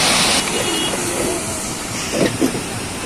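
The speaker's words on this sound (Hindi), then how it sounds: "ये है केम्प्टी फॉल जो नीचे पानी जा रहा है" Kempty Falls waterfall pours in a steady, close, broadband rush of water, constant throughout with a couple of brief louder splashes partway through.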